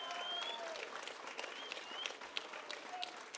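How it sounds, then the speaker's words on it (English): A crowd at a boxing event in Sheffield claps warmly after the bout. Dense, sustained applause is heard with a few scattered whistles riding above it. "a big round of applause, please, for both these men after an excellent contest"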